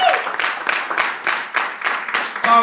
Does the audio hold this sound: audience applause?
yes